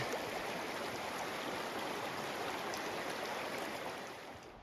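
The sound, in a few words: hikers wading across a forest stream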